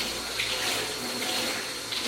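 Tap water runs steadily and fairly loud while a damp cloth is rinsed under it during cleaning of a Silex GTT10 grill, with faint splashing and no speech.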